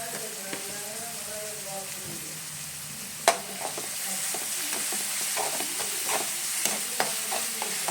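Finely chopped onions with ginger-garlic paste fry in a pan, giving a steady crackling sizzle with clicks of stirring. A voice talks briefly near the start.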